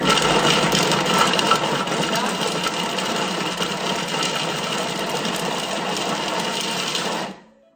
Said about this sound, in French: Donc là, on va mixer nos légumes.